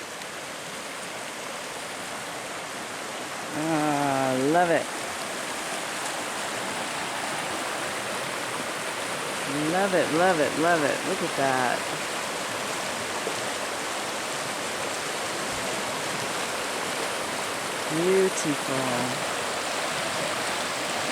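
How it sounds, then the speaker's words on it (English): Steady rushing flow of creek water fills the whole stretch, constant and broad, with a person speaking briefly a few times over it. "Look at that creek."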